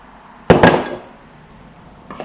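A spoon crushes cooked beans with cooking water and extra virgin olive oil in a pot for bean bruschetta. Two quick, close knocks ring out and fade into a soft scrape, then one fainter tap follows near the end, with no talking.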